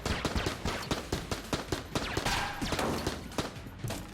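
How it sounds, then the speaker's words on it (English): An enemy in Enter the Gungeon fires an AK slowly: a steady run of sharp, close gunshots at a fairly even pace, mixed with busy game effects and no talking. "At least this guy fires his AK very slowly, so he's not that bad"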